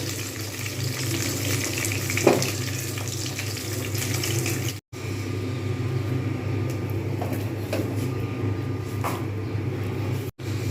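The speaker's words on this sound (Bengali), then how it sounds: "দুটো পিঠ কিন্তু খুব সুন্দরভাবে ভাজা হয়ে গেছে" Continuous close sizzling of catla fish frying in oil in a hot pan, steady and even, with a few faint clinks and a brief pause partway through.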